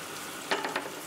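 Fish frying in spiced oil over a gas flame, a steady faint sizzle with a brief louder crackling flurry of a few bursts midway.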